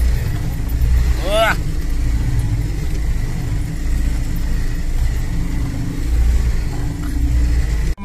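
UAZ 469 car driving along a rough road, a steady low engine rumble with road noise throughout, close and continuous, with a brief whistle-like tone early on and occasional murmurs of voices.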